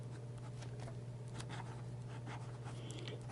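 Fountain pen with a medium nib from Fountain Pen Revolution scratching steadily across paper in soft, irregular strokes over a constant low hum, with no voices.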